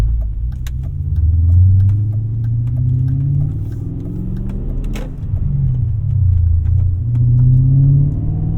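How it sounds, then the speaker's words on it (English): A 2001 E39 BMW M5 drives by with a loud, continuous engine and exhaust rumble, rising and falling as it revs and shifts, with no talk throughout. "Oh, that exhaust."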